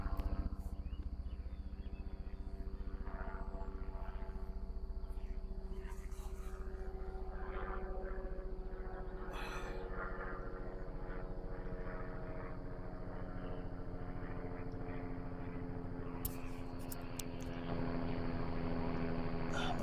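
A continuous droning rotor and engine roar from a helicopter overhead, steady and fairly loud throughout, with occasional brief clicks and rustles nearby.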